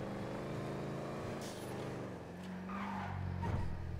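A Picador, the El Camino-style muscle pickup in GTA 5 Online, drives with a steady engine drone and rumble, then tires scrub and squeal in a short skid toward the end. No talk is heard.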